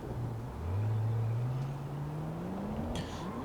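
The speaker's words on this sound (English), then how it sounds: "Off goes the McLaren" A McLaren pulling away in Need for Speed Payback, its engine note rising steadily as it accelerates, loud and close over a low background rumble.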